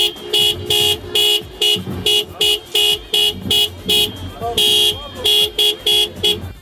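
At a wedding in Kütahya, a car horn blares in repeated short honks in an uneven rhythm, loud and close, asking for money for the couple, with faint traffic noise between the blasts.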